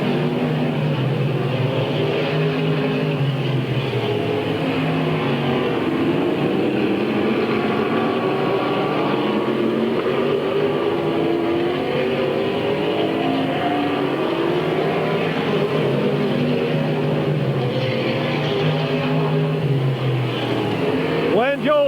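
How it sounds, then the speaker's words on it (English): Race cars roar around Midvale Speedway in 1997, a dense continuous engine drone with shifting pitch as cars pass, steady and loud throughout, while an announcer's voice calls the action over the top. "Jack Ripley, Jeff Walker, Mark Howe, and Scott Marino out there racing."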